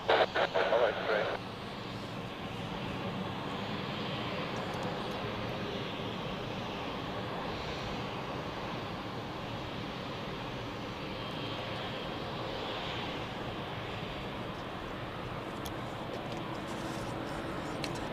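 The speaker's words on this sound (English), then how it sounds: "Next up is an Embraer 195 of Helvetic to Budapest, flying for Swiss as usual." Helvetic Airways Embraer 195 jet departing Zurich Airport on a flight for Swiss to Budapest: a steady, broad engine roar that holds evenly for many seconds, with a brief crackly radio burst at the very start.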